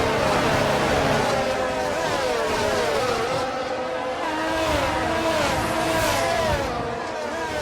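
Formula 1 race cars in the F1 22 video game during the Emilia Romagna Grand Prix, Red Bull and Mercedes powertrains, engines wailing steadily and loudly with shifting pitch sweeps as cars rev and pass, continuous throughout.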